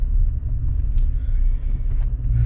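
A steady, loud low-end engine rumble from a car driving along, continuous and close, with no talk over it.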